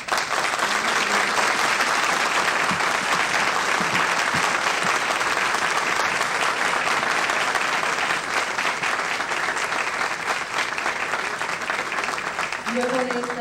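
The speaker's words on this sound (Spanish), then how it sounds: "un aplauso." Audience applause thanking a lecturer at an INTEC event on partnership strategies: dense, sustained clapping from a large crowd, holding strong before a voice begins speaking near the end.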